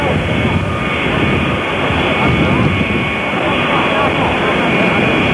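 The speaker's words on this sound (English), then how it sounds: "This is number two. It's a 707 Astrojet." A Boeing 707 Astrojet jet airliner arriving at Dallas in 1963 gives a steady, loud, broadband jet roar that holds at a constant level throughout.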